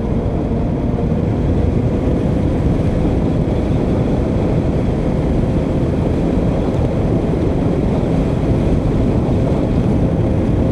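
Heavy wind roars steadily across the microphone outdoors in San Jose, Tarlac, loud and unbroken throughout.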